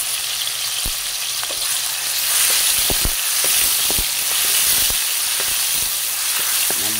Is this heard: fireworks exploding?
no